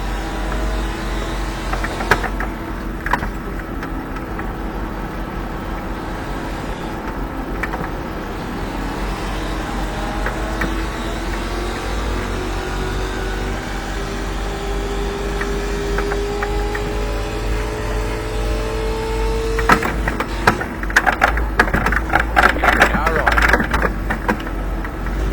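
Racing car engines in a sim racing game drone continuously, with rising and falling revs of several cars close together, under a spotter's radio calls.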